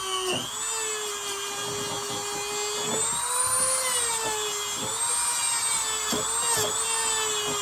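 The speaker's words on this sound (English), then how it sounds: "I think I may need to go ahead and change heads on this Dremel here in just a second." Dremel rotary tool cleaning a pocket knife blade during a restoration, a steady high-pitched whine with slight pitch dips as it bears on the metal, loud and close with no talking.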